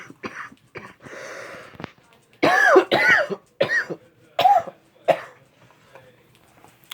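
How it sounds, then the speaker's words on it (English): Several short, harsh coughs burst out in a cluster, close and fairly loud, followed by a few quieter coughs with brief pauses between them. "What are you coughing for that?"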